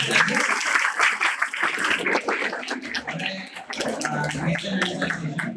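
An audience claps at an NRI marriage awareness seminar, with dense applause running throughout and voices chattering underneath.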